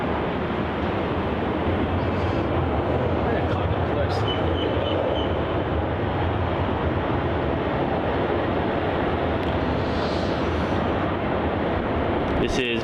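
A Jetstar Boeing 787 airliner at Melbourne Airport gives a loud, continuous broad engine roar that holds steady throughout, with a voice speaking over it.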